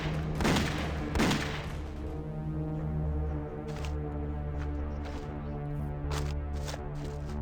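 Gunfire in the video game Dex: Enhanced Edition, two sharp loud shots early on followed by a few quieter cracks, set over a steady humming game music bed with no talk.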